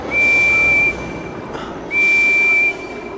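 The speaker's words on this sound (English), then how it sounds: "This is how my whistle sounds." A high, pure whistle toots twice, each long and steady, separated by a short pause, loud and close: a cartoon train engine whistle in a Thomas and Friends video game.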